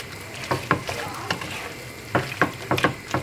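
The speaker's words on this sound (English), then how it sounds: "Mix all the courgette around like so." Courgette sizzles in a pan as it is stirred around, giving a low frying hiss broken by a series of sharp scraping and clattering knocks in an uneven rhythm.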